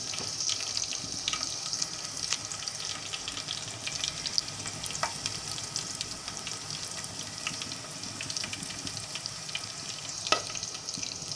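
Chana dal sizzling and frying steadily in a hot pan, a continuous crackling hiss with occasional sharper pops and faint stirring clinks, close by with no talking.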